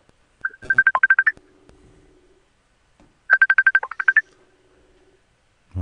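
Messenger call ringing tone, heard as two bursts of rapid warbling beeps separated by a short pause, clear and fairly loud over near silence.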